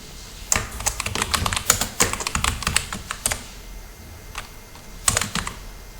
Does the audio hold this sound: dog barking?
no